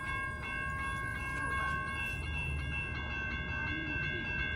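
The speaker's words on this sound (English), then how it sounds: "here comes Amtrak San Joaquin bound train 714" Amtrak San Joaquin train 714, bound for Bakersfield, arrives at Fresno station in a quiet zone, a low rumbling approach with steady tonal hums over it, fairly faint and without speech.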